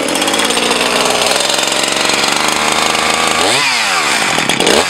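A Husqvarna 350 chainsaw engine runs loud and close at high revs, a steady buzzing roar that dips and wavers near the end as the throttle changes.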